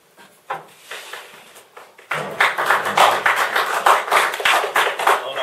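Audience at a Town of Caroline candidates' meeting in 2011 breaking into applause, scattered claps at first, then a dense, steady burst of clapping from a roomful of people indoors.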